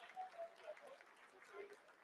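Applause rises and falls faintly at a distance during the live Chandrayaan-3 lunar landing broadcast, mixed with voices.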